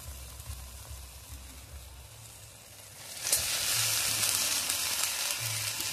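Spiced masala sizzles steadily in hot oil in a pan while prawns with taro stolons are cooked. Midway the frying surges louder and brighter as the mixture is stirred, and the crackle stays close and continuous with no voices.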